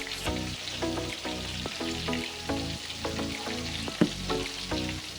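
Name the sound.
stirring spices and red peppers in a frying pan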